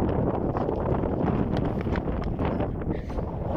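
Strong desert wind buffets the microphone in a loud, continuous roar with gusty rustling, steady for the whole few seconds and no voices heard.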